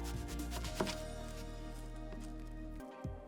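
Knife slicing through green beans or similar vegetables on a cutting board in a home kitchen, a few soft chopping taps over a steady low hum, close and fairly quiet.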